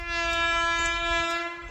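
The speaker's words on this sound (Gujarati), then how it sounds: "જોવા ટ્રેન આવે છે." A train horn sounds loud and steady as a train approaches, the sustained blast holding for the whole moment with a low rumble underneath.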